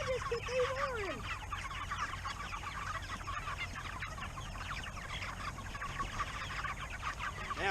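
Young Cornish Cross meat chickens cluck and chatter steadily inside a coop, a dense continuous flock murmur close by, with a brief squawk near the start and no talking.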